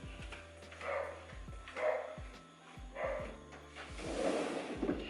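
A dog barks outdoors at a moderate distance in a series of about five evenly spaced single barks, each with a sharp onset, against quiet background noise and with no talking.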